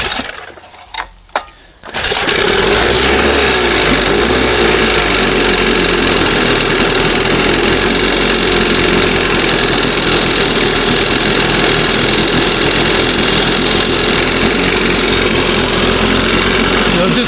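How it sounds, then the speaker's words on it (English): An old outboard boat motor takes a couple of quick pull-start tugs, then fires and settles into a loud, steady, buzzing idle close by. "All right, she's going to fire right now."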